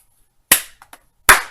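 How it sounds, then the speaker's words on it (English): Two sharp, loud hand claps ring out close by about three-quarters of a second apart, with a couple of faint soft taps between them. "the clap."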